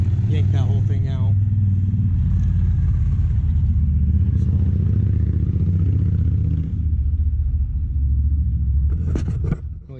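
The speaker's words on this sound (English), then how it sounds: "Noisy motorcycles when you're trying to film" Motorcycles passing outside a garage during an LS swap project on a turbo G35, a loud, low, continuous engine rumble that fades near the end, with a person talking over it.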